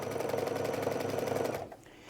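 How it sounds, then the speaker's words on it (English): Sewing machine running a straight stitch along a fabric edge: a fast, even mechanical chatter holding steady, then stopping abruptly near the end. "just stitch, straight stitch following the edge of the fabric."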